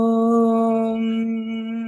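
A single voice holds a steady, resonant Om chant, a clear sustained tone with strong even overtones and no pauses.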